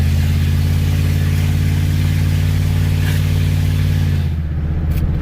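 Pickup truck engine with a broken exhaust, idling loud and close with a steady deep rumble, then a slight change in tone near the end.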